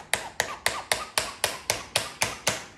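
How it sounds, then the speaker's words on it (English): A hammer taps the wooden keys of a canvas stretcher bar, about ten sharp, evenly spaced knocks in a steady rhythm, close and clear with no talking. "then you take a hammer"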